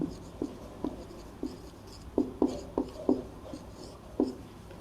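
Chalk or marker strokes on a board, written in a maths lesson, come as a series of short scratchy taps and drags in irregular bursts. They are fairly close and clear, with no talking over them.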